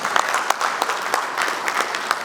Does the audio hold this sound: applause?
yes